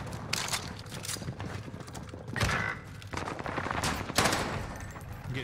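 Gunfire from the Cooper Carbine and other weapons on Rebirth Island in Call of Duty, with rapid bursts of automatic shots that come in close, dense clusters and keep going through the whole stretch.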